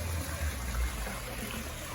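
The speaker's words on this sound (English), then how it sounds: "this beautiful sound of the waterfall" A garden waterfall spills into a pool at a property in Cozumel, Mexico, giving a steady, close rush of falling water with a low rumble and no voices.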